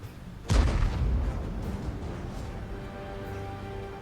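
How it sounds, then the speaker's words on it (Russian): A Soviet 212A self-propelled artillery gun fires once in World of Tanks, a single loud, heavy boom with a deep low rumble that decays slowly into a quiet background hum. "Сводимся. Готовимся. Будем сейчас стрелять."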